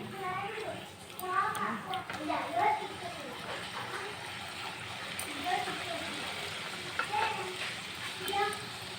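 Wheat flour karam gavvalu fry in hot oil with a soft, continuous sizzle and bubbling, while an adult and someone talk over the cooking.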